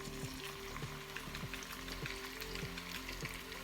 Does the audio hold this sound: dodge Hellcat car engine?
no